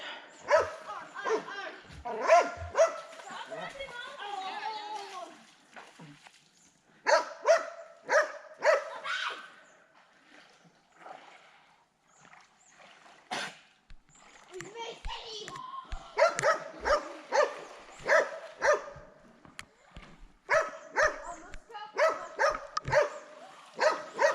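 A dog barks repeatedly in short bursts, mixed with people talking nearby; the barking comes in clusters with brief pauses between them.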